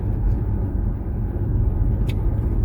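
A Renault Captur E-Tech plug-in hybrid from 2020 drives at out-of-town speed on its electric motor alone, giving a steady low road and tire rumble inside the cabin.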